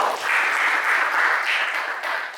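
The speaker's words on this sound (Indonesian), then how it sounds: "tepuk tangan buat Mas Aril." A classroom group claps their hands together in a short burst of steady applause, close and fairly loud, lasting a couple of seconds before tapering off.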